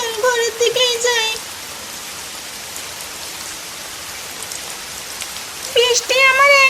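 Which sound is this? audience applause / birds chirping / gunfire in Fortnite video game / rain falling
rain falling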